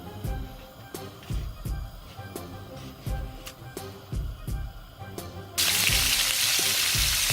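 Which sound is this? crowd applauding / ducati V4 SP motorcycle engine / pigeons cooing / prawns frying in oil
prawns frying in oil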